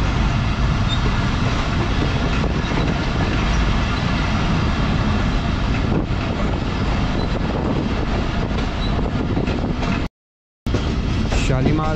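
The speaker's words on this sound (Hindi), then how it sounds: "शालीमार एक्सप्रेस धुंध के इस मौसम में, सर्दी के इस मौसम में और शाम के वक्त गोजरा रेलवे स्टेशन पे पहुंच चुकी है और हल्की स्पीड में पास होगी" The Shalimar Express rolls slowly past Gojra railway station on a foggy winter evening, its loud, continuous rumble and wheel clatter filling the air, broken only by a brief dropout near the end.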